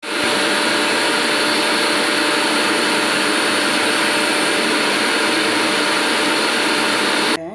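A mixer grinder whirs loudly and steadily while grinding mint and lemon into a paste, one continuous motor drone that runs for several seconds and then cuts off abruptly at the end.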